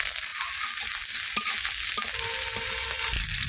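Panch phoron and chopped green chilies sizzle steadily in hot oil, a close, loud, unbroken hiss with a few faint clicks and pops, no voices present.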